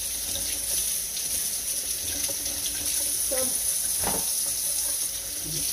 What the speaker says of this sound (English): the first thing you're going to do, of course, is wash my zucchini